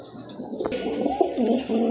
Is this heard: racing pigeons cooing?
yes